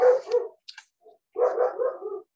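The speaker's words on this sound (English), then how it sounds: "sorry about my dogs if you can hear that" Several dogs bark in short bursts, a couple of quick yaps followed by a longer run of barking, fairly close and loud.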